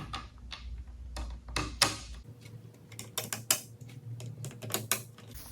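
Screws go into an iPad security stand: a series of small metallic clicks, taps and scrapes, close and moderately quiet, with a brief low rumble early on and no speech.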